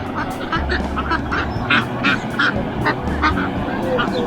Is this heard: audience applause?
no